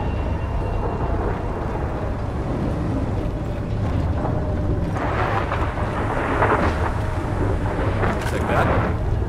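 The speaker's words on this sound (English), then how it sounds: "We don't know how long the storm will last." A raging storm in the Gears of War 4 video game: a constant, loud roar of wind and rumbling thunder that swells near the end, with voices talking over it.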